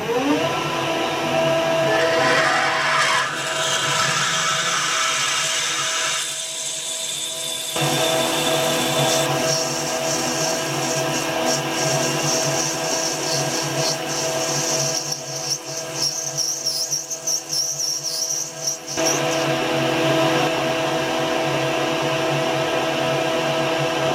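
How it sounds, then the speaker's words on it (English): A drill works into brass on a lathe in a workshop, a continuous loud whirring machine drone that shifts in tone as the cut changes, with no talking. "I'm sure you're all aware of what brass is like to machine with a sharp drill"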